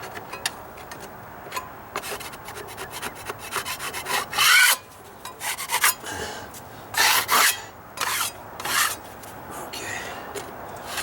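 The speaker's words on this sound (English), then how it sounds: "it doesn't take long to scrape it off" Wet skim coat being scraped off a deck stair tread, a series of rasping, rubbing strokes of a blade over wood, close and fairly loud, coming in irregular bursts with short pauses between them.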